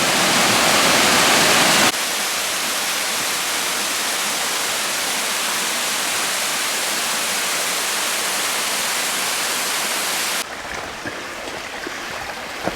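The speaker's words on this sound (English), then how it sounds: "So, cool little waterfall." Steady, loud rush of a small waterfall close by on a forest trail at Hickory Run, a continuous broadband roar that drops a little in level near the end.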